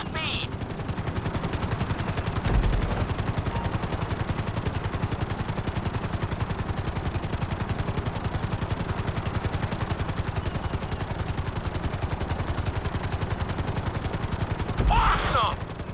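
A helicopter in Grand Theft Auto 5 flight school gives a loud, rapid, steady rotor chop throughout, with brief thumps near the start and end, close and continuous.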